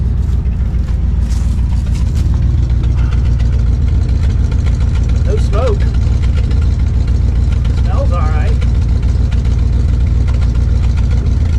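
A 1977 Dodge Power Wagon engine idles steadily through a single-pipe glass pack exhaust, a loud continuous low rumble throughout, with someone speaking briefly over it.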